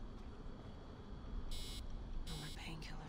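Electronic beeping from a heart rate monitor in the video game Assassin's Creed Origins, short high-pitched tones in a couple of bursts over a low game background, with faint voice-like murmur underneath.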